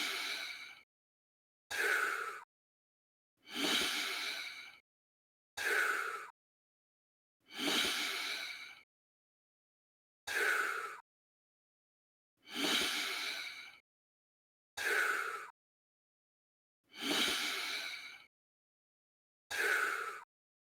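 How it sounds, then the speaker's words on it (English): Rhythmic controlled breathing while jogging, about ten evenly spaced breathy exhales and inhales separated by silences, close and clear. "do the same kind of rhythmic inhaling and exhaling that you just heard me do"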